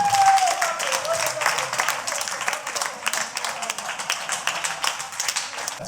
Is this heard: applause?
yes